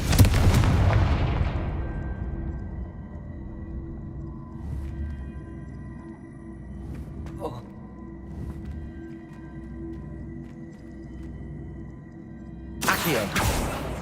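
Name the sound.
Confringo fire blast spell in the video game Hogwarts Legacy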